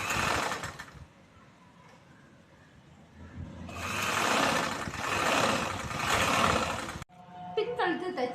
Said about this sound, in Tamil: கிராஸ் பீஸோட ஓரத்தில் ஒரு தையல் போட்டுக்கிறோம்.